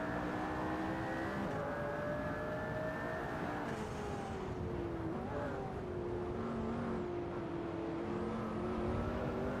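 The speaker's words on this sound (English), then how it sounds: "We're currently witnessing an intense race here in the racing simulator." Hypercars racing around Spa in a racing simulator game, several engine notes droning and shifting pitch together at steady volume, with occasional whirring passes and no one talking.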